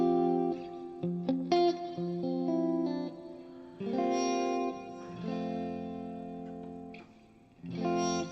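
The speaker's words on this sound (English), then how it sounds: "where's this particle reverb?" Electric guitar played through a Line 6 Helix with a particle reverb effect, sustained chords and notes trailing off into shimmering, processed decays, with short gaps between phrases.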